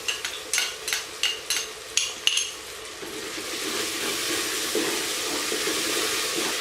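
Ginger garlic paste stirred into frying onion and tomato for a mutton karahi: a run of sharp spoon taps on the pot, then a rising, steady close sizzle with no talk.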